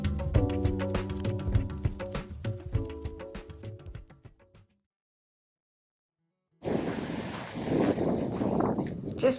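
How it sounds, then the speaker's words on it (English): Strong wind buffets the microphone in heavy gusts in Lysite, Wyoming, following a stretch of silence, with rumbling low-frequency roar. "It's just so windy today."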